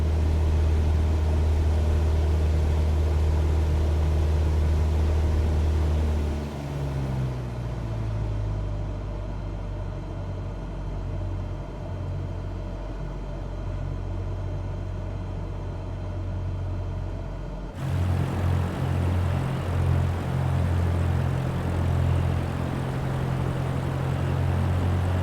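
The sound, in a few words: Cessna 172 engine in Microsoft Flight Simulator 2024 video game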